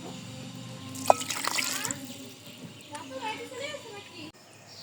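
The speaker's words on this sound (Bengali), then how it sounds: "এখন আমি এখানে হালকা কুসুম গরম পানি দিয়ে দেবো" Lukewarm water pours and trickles into softened rice-flour dough in a rural home kitchen, a short splashy gush followed by gentle dribbling, close by, with someone talking over it and birds chirping faintly.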